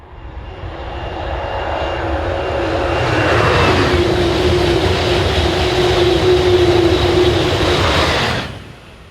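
A Eurostar train from Brussels to London St Pancras passes close by, a loud sustained roar that swells and holds steady with a faint whine, then cuts off sharply near the end.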